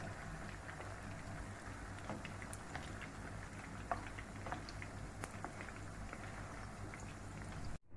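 Kofta mince balls frying in hot oil in a pan: a steady, soft crackling sizzle with scattered pops, continuous and fairly quiet, with no talk.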